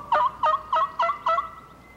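A double reed mouth call imitating a wild turkey, five sharp yelping gobble-like notes in an even rhythm, loud and close, with no talk.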